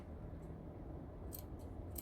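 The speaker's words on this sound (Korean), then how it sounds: "가위밥을 똥똥똥똥 주셔야 됩니다." Scissors snip through fabric seam allowance at a garment neckline, a few quick crisp cuts over a soft background hiss, heard alone and close.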